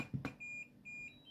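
A DJI Mini 2 / Air 2 remote controller, modded to be quieter, gives a series of soft, thin electronic beeps, short repeated tones after a couple of clicks, quiet and alone.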